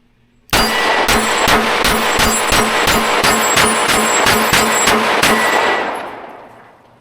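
A Daniel Defense H9 pistol fires a full magazine at steel targets: about fourteen evenly spaced, loud shots in quick succession, each followed by a ringing metallic clang, with reverberation trailing off at the end.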